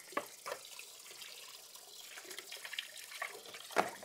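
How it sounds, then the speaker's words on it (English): Hot water runs from a tap to rinse juicer parts, a steady close rush of flowing water with light clinks and splashes as pieces are handled. "Okay, just using some hot water here."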